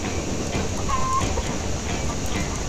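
A chicken clucks in the video game Cactus McCoy, a brief thin cluck sitting over a steady wash of game music and background noise.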